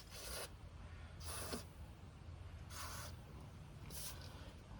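Four separate hissing bursts of CRC Freeze Off penetrant sprayed onto a stuck nut during bus maintenance, each about half a second long and evenly spaced, close and fairly quiet with no talking.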